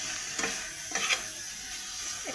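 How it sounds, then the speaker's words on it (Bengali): Pea lentil fritter curry being stirred and sautéed in a pan, a soft steady sizzle with a few brief scraping strokes of the spoon, close and fairly quiet. "এবার ভালো করে কষে নেব। 3-4 মিনিট এইভাবে কষে নেব।"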